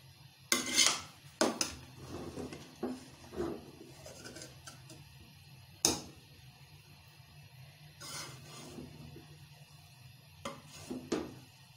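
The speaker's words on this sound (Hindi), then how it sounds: "इन्हें मिक्स कर लेते हैं और डिश आउट कर लेते हैं" Spoon scraping and clanking against a pot while chickpea pulao is mixed and dished out: a series of sharp metallic clinks and scrapes at an irregular pace, close by, with quiet gaps between them.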